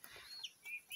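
Free-range chickens out in brushy farm scrub, with a few faint, short clucks and chirps scattered across a quiet outdoor background.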